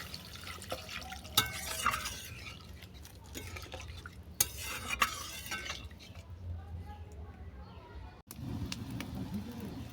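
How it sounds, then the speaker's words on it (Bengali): Water poured into a pan of cooked-down curry masala and stirred for watermelon-rind curry, with splashing, dripping and utensil clatter in bursts, and faint talk in the background. "এরপর দিয়ে দিলাম পরিমাণ মতো জল।"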